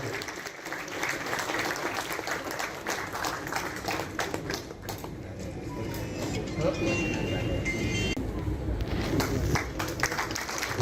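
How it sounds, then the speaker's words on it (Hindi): A crowd at a hotel owners' association meeting in a Navi Mumbai hotel claps loudly and continuously, the sharp dense claps swelling toward the end, with a voice talking over the applause. "जोरदार तालियों की गूंज।"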